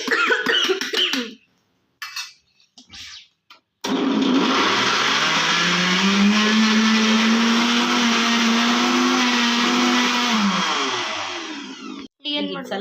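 Mixer grinder running on chutney powder ingredients: garlic, chilli, grated coconut and tamarind. Speech comes first, then a loud steady whirring motor runs for about seven seconds and winds down before more talk.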